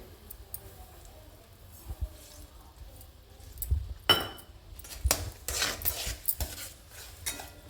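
Semolina grains pour and get stirred into a pot of boiling water, with scraping utensil clicks and soft bubbling and sizzling, growing busier in the second half.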